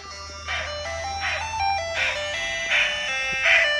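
An ice cream truck plays its tinkling chime melody as it drives by, the repeating tune of bright notes moderately loud over a low engine hum and outdoor background.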